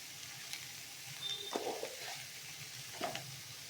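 Bottle gourd and potato pieces with turmeric in a pan, frying with a soft sizzle and a few stirring scrapes, quiet and close, no voices.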